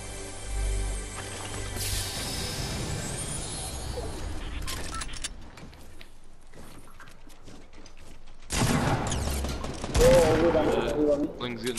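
Bursts of video game gunfire, loud and close, with sustained rapid shots early and a second heavy burst near the end over a mechanical background.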